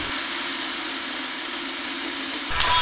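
A power drill drilling holes in a Kirkey racing seat whines steadily at a constant pitch, then the sound abruptly shifts and rattles near the end.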